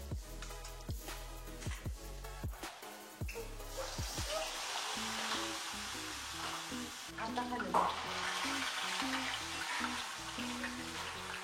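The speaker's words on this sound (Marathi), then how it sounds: "छान असं तळून घ्यायचं." A homemade peri-peri potato twister fries in hot oil with a dense, steady sizzle and bubbling, over faint music.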